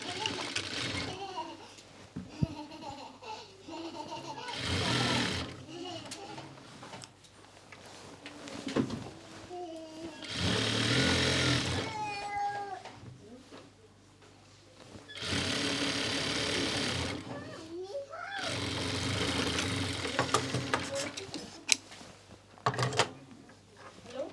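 A sewing machine stitches a neck seam on a pheran, running in several bursts of rapid mechanical whirring separated by pauses, with a person talking between runs.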